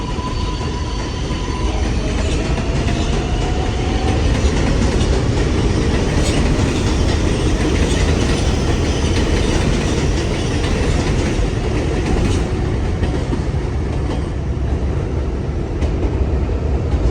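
A 7 subway train rumbles steadily along the rails into Court Square station with a clickety-clack rhythm and occasional faint wheel squeals, loud and continuous, with no talking.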